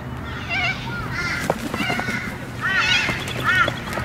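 A crested pigeon flying in Brisbane, Australia, its wings giving off a few short, squeaky tonal whistles in quick bursts against a quiet outdoor background.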